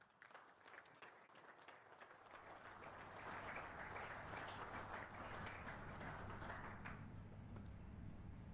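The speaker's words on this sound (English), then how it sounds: "Let's give them a round of applause" Crowd applause at a national sports awards ceremony for a guest of honor, starting sparse and quiet, then swelling into a sustained, dense roar of clapping that holds steady with a low hum beneath it.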